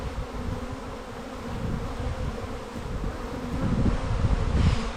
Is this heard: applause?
no